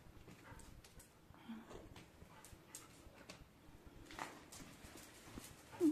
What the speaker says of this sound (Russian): Собаки пробежали